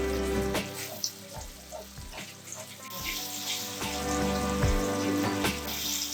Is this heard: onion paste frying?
yes